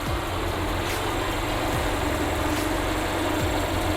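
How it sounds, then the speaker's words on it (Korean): An Infiniti Q30 2.0 engine idles steadily under the open hood, a loud, even low rumble with a continuous broadband hiss and no voices. "엔진 소리도 일정합니다."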